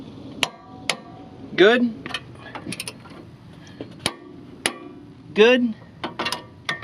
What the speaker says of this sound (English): let's torque it down to 74 foot-pounds